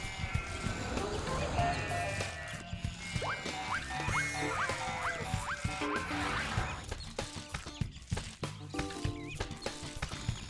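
Sheep in Sheep, Dog 'n' Wolf bleat among playful game music, the wavering animal calls mixed under melodic tones and clopping, moderately faint.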